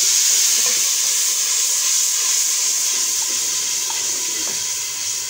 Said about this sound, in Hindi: अब इसको पानी का छींटा दूँगी।